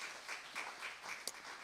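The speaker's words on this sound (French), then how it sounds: "On peut applaudir Osée" Audience applause at a church service, a soft, distant patter of many hands clapping steadily throughout, with a brief sharper clap near the end.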